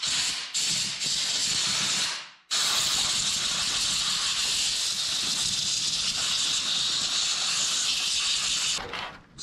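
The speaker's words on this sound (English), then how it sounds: "Let's hook up the air compressor and kind of blow it all off." Compressed air blasts from an air compressor nozzle blowing debris off the carburetor of an abandoned 1972 Plymouth Fury, a loud close hiss that cuts out briefly, resumes steadily for several seconds, then tapers off.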